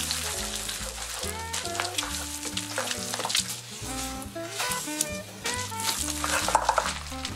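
Egg frying in oil in a pan for chow mein, stirred with a utensil; steady sizzle under broad clatter and scraping with strong low rumble, continuous and fairly loud throughout, no speech.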